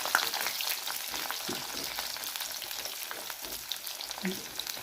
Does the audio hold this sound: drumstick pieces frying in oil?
yes